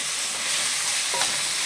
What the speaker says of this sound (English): We're gonna add the potatoes. And stir that up too.